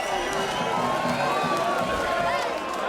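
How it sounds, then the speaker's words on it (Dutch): An audience at D'n Aftrap 2023 in Gennep cheers and applauds as the next act takes the stage, a dense, steady wall of clapping and shouting that runs unbroken through the whole stretch. "Geef een grandioos applaus."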